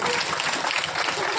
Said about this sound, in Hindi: एक बार इनके लिए जोरदार ताली बजाएंगे